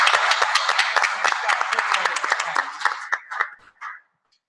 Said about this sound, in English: And just one last round of applause for the panelists.